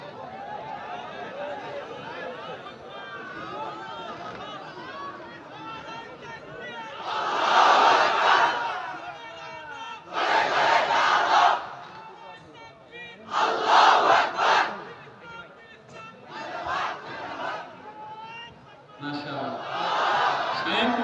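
Crowd at a Bengali Islamic religious gathering shouting Allahu Akbar in loud repeated bursts after a Naraye Takbir call, the chants rising over a speaker's amplified voice and background murmur.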